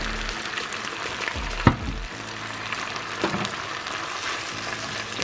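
Eel frying in a pan with chili garlic sauce sizzles steadily and softly, with a couple of sharp utensil clinks against the pan. Nobody talks.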